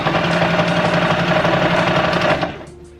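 A sewing machine stitches a Christmas pillow cover in a steady, close, continuous run of rapid needle strokes, then stops abruptly near the end, leaving a quiet tail.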